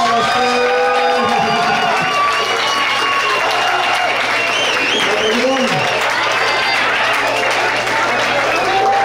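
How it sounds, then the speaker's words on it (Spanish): An audience at a Look My Electro Queens contest event claps and cheers loudly for three participants, with whoops and shouting voices over continuous applause. "aplauso para los tres."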